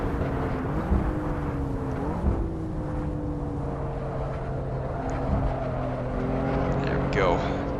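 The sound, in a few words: BMW M4 engine in video game Assetto Corsa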